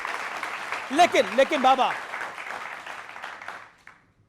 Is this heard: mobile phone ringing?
no